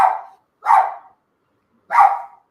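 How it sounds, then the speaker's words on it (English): A dog barks three times, loud and close, with short gaps between the first two barks and a longer pause before the third, in an otherwise quiet room. "Oh my gosh, that dog."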